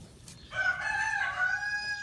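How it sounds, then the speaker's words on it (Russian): A domestic rooster on a farm crows once, close and loud, a drawn-out call lasting over a second. "Как хорошо, когда есть домашние куры"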